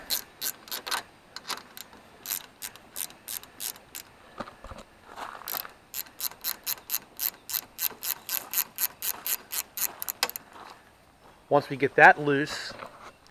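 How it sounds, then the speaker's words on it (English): Ratchet wrench loosening an 11mm nut on a Toro GTS self-propelled lawn mower, rapid bursts of sharp clicking pawl strokes close up, pausing between runs, with someone speaking briefly at the end. "there's a 11mm nut that we have to loosen up here"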